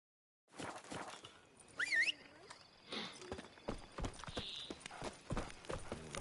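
Horse hooves clip-clop in The Witcher 3, a quick run of close hoofbeats with a whinny and other game sounds around them, while a voice talks now and then.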